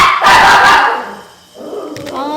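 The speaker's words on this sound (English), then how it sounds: "What are you barking?" A dog lets out one sharp, loud bark up close, followed after a short pause by softer yipping noises. No voices are heard.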